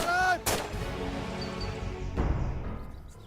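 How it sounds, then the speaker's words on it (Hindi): Gunfire in a Bhojpuri action film scene, a sharp loud shot at the start followed by a second blast, with a tonal whine and rumbling echoes behind. "लागत है कि गोली चला देलस।"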